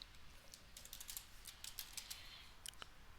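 Fingers tap a computer keyboard in a quiet room, a quick irregular run of light, faint clicks with short pauses between bursts.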